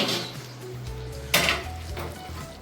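A metal lid lifts off a pot of Hyderabadi dum chicken with a single sharp clank of cookware, followed by a faint burst of steam and lighter rattles against a low background hum.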